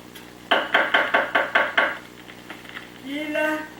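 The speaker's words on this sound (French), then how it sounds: "il frappa à la porte" Knocking on a door from a French storybook record of Little Red Riding Hood: six steady, evenly spaced raps, fairly loud and close, followed by a brief pause and a short vocal-like tone.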